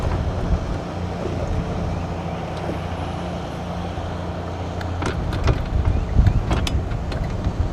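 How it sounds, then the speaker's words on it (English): Boat engines drone steadily across open water while fishing, a low continuous rumble with wind buffeting the microphone, swelling slightly louder toward the end as traffic passes. "Bit of boat traffic out here today."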